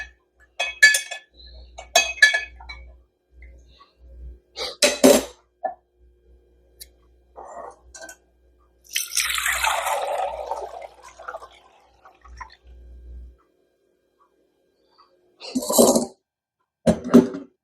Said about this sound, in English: I'm going to stir it up and then I'm going to strain it.